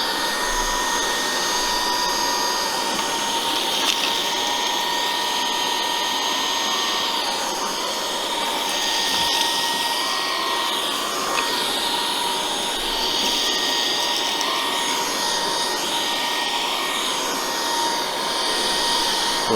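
A Dibea F20 Max cordless stick vacuum cleaner running in standard mode, a steady high-pitched whine and airflow roar holding close and constant throughout, with slight shifts as it moves.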